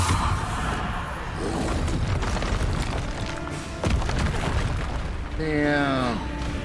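A Bombarda spell explodes during combat in Hogwarts Legacy on PS4, giving a heavy boom over constant battle noise, followed by a descending whistling sweep.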